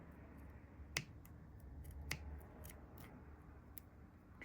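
Scissors snip fibers tight against a hook while a fly is being tied, two sharp close cuts standing out with a few lighter clicks over a quiet room.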